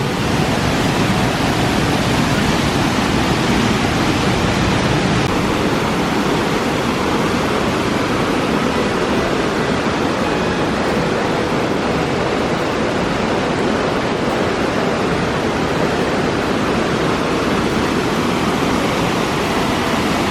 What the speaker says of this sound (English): Beautiful waterfall over here, absolutely stunning.